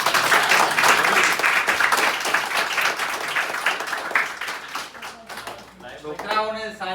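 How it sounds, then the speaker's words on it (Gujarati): An audience at a free career guidance seminar for a computer class applauds a speaker, with dense, loud clapping that thins out toward the end as a voice begins talking. "આપણે અરવિંદ સરને બારીથી"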